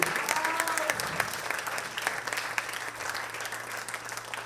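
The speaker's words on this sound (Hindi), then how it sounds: "ऋतुजा जी जोशी के लिए एक बार जोरदार तालियां" Applause for a star performer at an annual day celebration, a steady patter of many hands clapping at moderate distance, holding evenly for several seconds, with a brief voice at the start.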